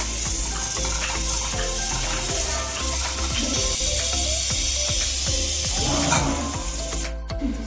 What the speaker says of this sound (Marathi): 4 शिट्ट्या झालेल्या आहे